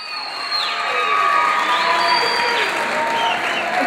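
A graduation audience claps and cheers loudly as the first row comes up for diplomas, with whoops and children's shouts rising over steady applause throughout.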